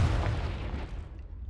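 A fire-spell blast in Hogwarts Legacy, a short low booming burst that fades over a second and a half, heard alone.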